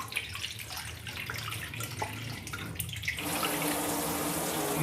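Water gushes steadily into a metal pot, starting partway through after a quieter stretch of light clinks and rustling, then running loud and constant.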